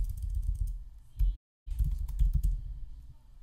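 Typing a command on a computer keyboard comes through as a run of close, moderately loud clicks with low thumps and a brief silent gap partway through, no talk over it.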